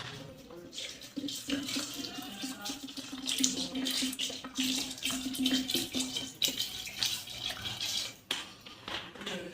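Water, 750 ml, poured into a pot of chicken biryani, making a steady splashing, running-water rush that continues for most of the stretch, close and fairly loud, with faint clinks of a metal pot.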